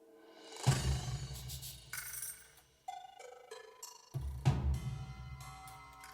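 Percussion section from a Hollow Knight rescore: guiro scrapes, tambourine jingles, low drum hits and a gong. Two heavy booming drum strikes ring out with metallic shimmer, and scraping, rattling textures play between them, all without voices.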